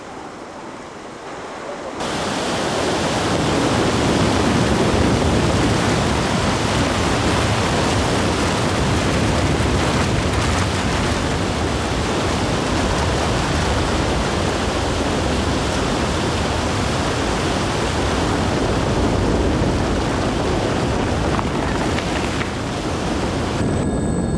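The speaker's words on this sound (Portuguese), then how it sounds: "Inevitavelmente, as águas inundam a terra." Floodwaters rushing over land during heavy rain flooding, a loud, dense, unbroken roar of churning water that swells in within the first two seconds and holds steady throughout.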